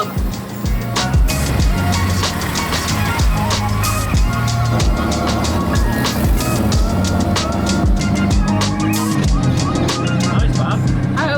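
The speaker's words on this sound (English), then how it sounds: "I'm driving on the road in Sri Lanka." A tuk-tuk drives along a busy road in Colombo, Sri Lanka, its loud engine drone and passing traffic filling the scene continuously, with music-like tonal layers and a voice mixed in.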